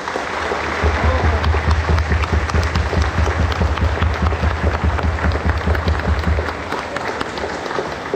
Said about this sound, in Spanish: Un aplauso para las catequistas.